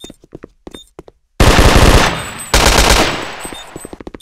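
Rapid automatic gunfire in Counter-Strike 1.6, with two loud sustained bursts following a few sparse clicks and quiet game sounds, ending in fading scattered shots.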